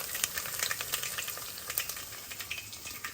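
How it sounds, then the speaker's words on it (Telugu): Crushed garlic fries in hot oil with a steady, close crackling sizzle, broken by light scraping stirs in an otherwise quiet kitchen. "వెల్లిపాయలు బాగా వేగుతున్నాయి కదా"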